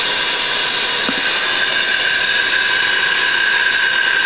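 A quarter-horsepower electric motor with a worn, noisy front bearing runs at steady speed, giving a continuous loud whine and rough mechanical hum with a faint tick near the start.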